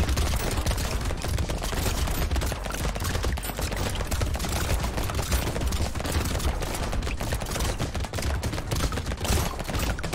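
Rapid, continuous gunfire in a sci-fi video game battle against aliens, dense overlapping bursts of shots firing without pause, loud and close throughout.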